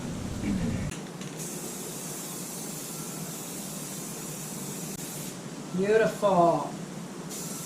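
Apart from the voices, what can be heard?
Rust-Oleum 2x Ultra Cover spray paint being sprayed on motorcycle plastics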